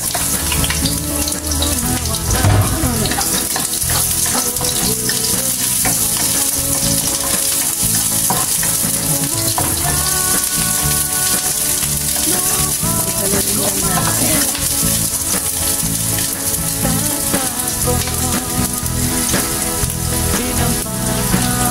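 Onions fry in hot oil in a pan as the start of a tomato-and-egg dish, a loud, dense sizzle that holds steady with no letup, with running water and faint clinks mixed in underneath.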